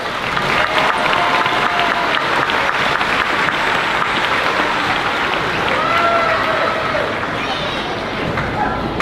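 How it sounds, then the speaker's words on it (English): An audience at a fifth-grade moving-up ceremony applauds a class with loud, sustained clapping mixed with crowd murmur and some background chatter throughout. "Toho's class another round of applause."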